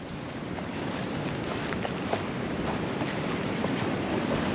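Wind gusts at a lake in hilly loess country, a continuous low rushing buffet against the microphone with faint water movement beneath, steady and moderately quiet, no voices.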